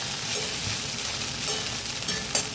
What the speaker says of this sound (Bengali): মানে একটু ভাজা ভাজা হচ্ছে